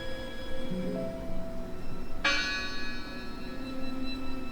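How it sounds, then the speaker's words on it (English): A church bell strikes once in the video game Draugen, a sharp metallic clang with a long ringing decay that rises over a steady low ambient hum about midway through. "Listen! The bell! They're still in there!"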